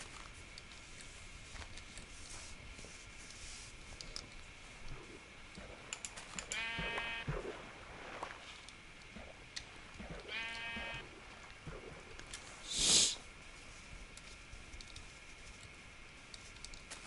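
Sheep in Minecraft: two short bleats a few seconds apart, faint over a low background hum, followed by a brief sharp game sound, with no talking.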